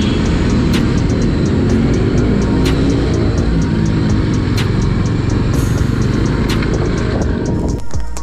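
Motorcycles on a group Independence Day ride out of Rourkela pass through a tunnel. Their engines make a loud, steady, reverberant roar throughout, and no one speaks.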